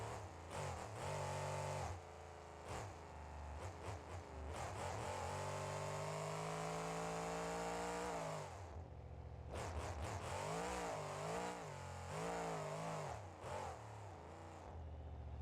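Monster truck engine in BeamNG.drive revving hard in long sustained pulls, pitch sweeping up and holding, then dropping and climbing again in bursts, loud and close with no voices.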